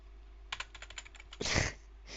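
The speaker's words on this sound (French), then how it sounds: "En train de spammer ma touche de clavier." Quick bursts of computer keyboard keystrokes clatter close and fairly quiet, a spaced run of taps followed by a louder, denser flurry and a final short burst.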